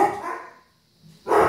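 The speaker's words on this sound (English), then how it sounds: "if you can hear me over the dogs" Dogs bark nearby in loud bursts, one stretch of barking at the start and another at the end with a short quiet gap between them.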